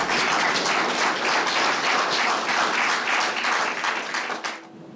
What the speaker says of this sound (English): The applause that happened, does that surprise you?